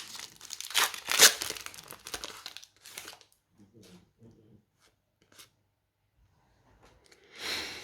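Pokémon card booster pack wrappers from the Silver Tempest set crinkle and tear up close in a loud burst, then fade to faint handling and soft rustles, with a brief voice murmuring and a final rustle.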